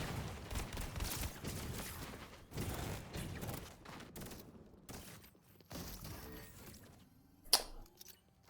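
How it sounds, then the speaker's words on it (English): Gunfire in the Fortnite Chapter 5 Season 4 game, with bursts of rapid shots from a player in a courtyard over the first few seconds and a sharp single crack near the end. "There's a guy in the courtyard shooting us with that stuff."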